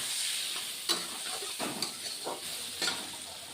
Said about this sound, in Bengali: হলুদ গুঁড়ো দিয়ে দিচ্ছি দিয়ে মিনিট একের মতো আলুগুলি আমি ভেজে নেব